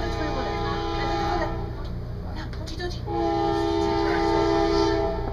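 A Metra train rumbles past Franklin Park station with a long horn blast, steady and fairly close, rising in loudness toward the end.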